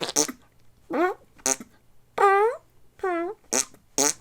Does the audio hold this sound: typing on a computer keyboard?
no